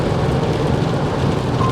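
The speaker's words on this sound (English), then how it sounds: "And it's raining like hell." Heavy rain drums steadily on an RV in an Arizona pine forest, a loud, dense, continuous wash of broadband noise with no voices.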